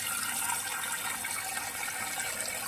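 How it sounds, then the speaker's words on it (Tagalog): Soup ingredients, including mushrooms and cashews, being washed in water, a steady close rush and splash of running water with no pauses. "hugasan natin maigi yung mga ingredients"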